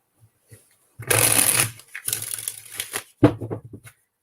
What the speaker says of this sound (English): Get some shuffles here.